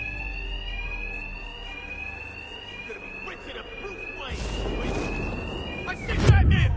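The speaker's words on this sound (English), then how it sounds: "My attacks will be covered by the noise of the alarm." A high electronic alarm rings continuously in the video game Batman Arkham Knight, steady and prominent, and then bursts of loud, noisy action and shouting voices cut in over it toward the end.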